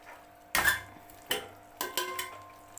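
A spoon stirring chicken biryani ingredients in a metal pot, giving about five or six sharp clinks and scrapes at an uneven pace, quiet and close with no talking.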